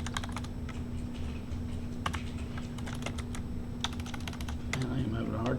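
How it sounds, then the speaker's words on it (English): Rapid, uneven typing on a computer keyboard during a coding session, with close, crisp key clicks in bursts and short pauses, over a low steady hum, faint voice near the end. "I am having a hard time typing today."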